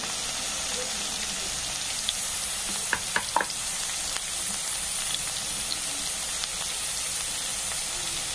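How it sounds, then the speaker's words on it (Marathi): Spices sizzling in hot oil with turmeric and red chili added for dry mung dal, a steady close frying hiss throughout with a few brief clicks of stirring. "मस्त फ्राय झाल्यानंतर आपल्याला टाकायचं आहे हळद, टाकून घ्यायची आहे लाल तिखट टाकून घ्यायचं आहे"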